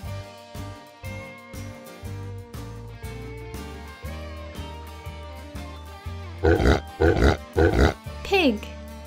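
A pig grunts and oinks in a guessing game of farm and wild animals, several short loud grunts clustered near the end over a steady musical background.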